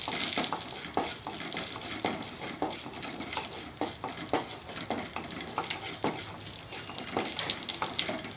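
Urad dal and a couple of dried red chillies crackle and sizzle in hot oil in a pan, a continuous close frying hiss with scattered pops and light stirring scrapes.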